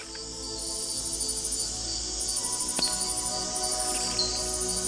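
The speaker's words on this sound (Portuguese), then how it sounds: "O coachar das rãs ouve-se por todo o lado, incluindo nos ramos das árvores." A dense, steady chorus of frogs croaking at night in a tropical rainforest, calling without pause, with a high trilling layer over a constant background.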